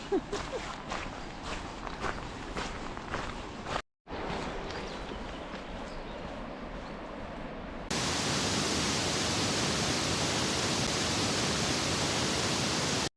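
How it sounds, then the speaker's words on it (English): Rogie Falls on a salmon river in Scotland pours in a steady, dense roar of rushing water that fills the last several seconds, after footsteps and a brief gap. "I can hear the falls, can you?"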